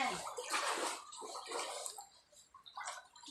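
Floodwater inside a flooded house splashes and washes steadily with sloshing, bath-like sounds. It continues for the whole stretch at a moderate level, with no talk over it.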